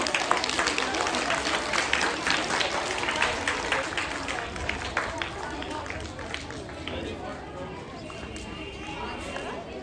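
A school audience at a Diwali and sports week prize distribution ceremony applauds continuously, a dense wash of many hands clapping, with chatter and voices mixed in throughout.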